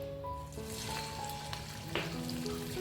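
Drumstick flower fritters fry in hot oil over a low gas flame, giving a steady, soft sizzle with faint background tones and no talking.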